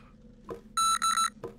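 Electronic phone text-message alert in a Die drei Fragezeichen adventure game: a bright, loud two-part chiming beep, close and clear, with brief voice-like sounds just before and after.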